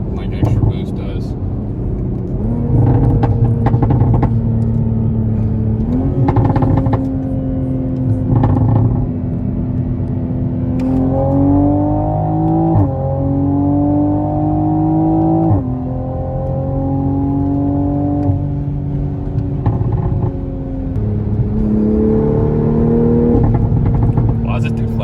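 A Toyota A90 Supra in Sport Plus mode pulls hard at full throttle, its loud engine note climbing through the revs in sweeping rises and dropping sharply at each upshift, heard steadily from inside the car.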